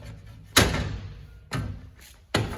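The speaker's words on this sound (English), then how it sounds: "Opening up these patio doors, you access the inside" Doors on a 2024 Forest River Wildwood 42 View RV, heard as three loud, close thumps spaced about a second apart, each one dying away quickly with no one talking.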